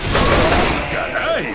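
A burst of gunfire in the video game Left 4 Dead 2 with sharp booming shots over busy game noise, loud and close, with voices talking underneath in Spanish.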